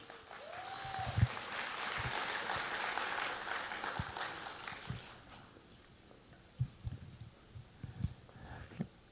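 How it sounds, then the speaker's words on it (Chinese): A concert audience at a Chinese traditional orchestra concert applauds in a dense, sustained wash of clapping that fades after several seconds, leaving scattered individual claps and faint room noise. "请大家掌声欢迎。"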